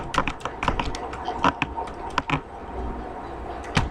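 A password is typed on a computer keyboard in a quick, uneven burst of key taps, some louder clacks standing out, then a pause and a final tap, close and clear with no talking.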